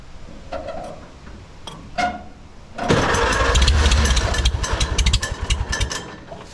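A 1946 Farmall tractor engine cranks with a few sputters, then catches and runs with a loud, close, rhythmic chugging that wavers as the throttle changes.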